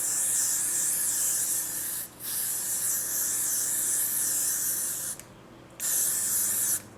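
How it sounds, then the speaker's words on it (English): An aerosol can of got2b Glued freezing hairspray hisses in long, continuous sprays at close range onto hair, pausing briefly twice before spraying again. "spray using some got2b glue freezing spray"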